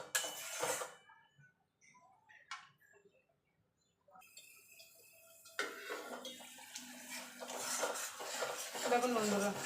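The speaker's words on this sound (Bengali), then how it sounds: "দিয়ে ভালো করে মিশিয়ে যতক্ষণ মশলা থেকে তেল না ছেড়ে আসছে ততক্ষণ এটাকে কষিয়ে নেব।" Spice masala with yogurt being stirred in a pan, a spoon scraping and clinking against the metal in intermittent strokes, quiet at first and then a steadier, closer scraping and sizzling texture.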